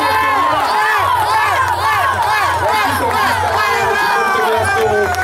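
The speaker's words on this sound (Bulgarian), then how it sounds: "вдигайте високо, да чуем аплодисменти" A loud, dense crowd cheers and shouts continuously at a youth football cup award ceremony, many voices overlapping with a steady low rumble underneath; applause is not clearly distinct from the yelling.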